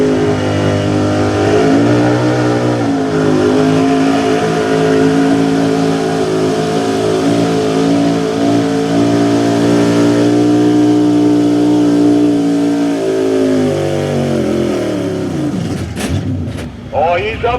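Pulling truck engine revving hard on a dirt track at a truck-pulling event, a loud, sustained roaring drone with shifting pitch that holds steady for most of the run before dropping off near the end.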